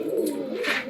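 A single pigeon in a home loft gives one brief, soft, throaty coo up close, alone without talk.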